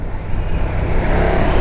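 A loud, steady KTM 1290 Super Duke R 2020 motorcycle engine roars and revs continuously, close by, with no voices over it.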